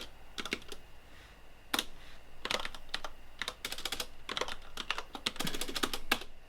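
Code being typed on a computer keyboard: quick bursts of close, crisp key clicks separated by short pauses, with no talking.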